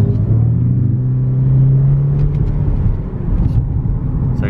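A 2017 Lexus IS300h hybrid sedan accelerates with a steady, loud low engine rumble and drone that rises slightly in pitch, heard from inside the car with no talk.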